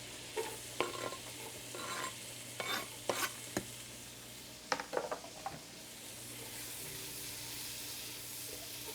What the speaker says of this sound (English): To cook our onions, we'll start by adding 3 tablespoons of butter to a large pot. Add the onions.